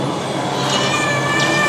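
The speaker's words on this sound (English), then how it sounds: "there's that cat that I keep on hearing" Cat meow sound effect on a dark ride at Kennywood amusement park, a drawn-out wavering meow heard twice over loud rumbling ride noise.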